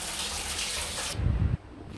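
Water runs from a tap into a sink in a room at Tioman, a steady splashing gush that swells briefly louder before cutting off, close and alone without talking.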